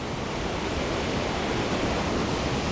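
Rhaeadr Nantcol waterfall roars after a storm, a dense, steady wash of rushing water heard close and loud without pause or voices.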